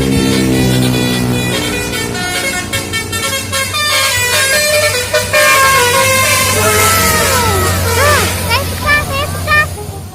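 A bus telolet musical horn plays a loud, close, warbling melody of toots with pitch bends, over an idling engine and excited crowd voices.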